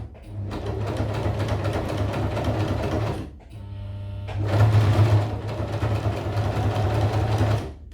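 A sewing machine runs in two close bursts of rapid, even stitching separated by a short pause, top stitching near the edge of a trouser fly.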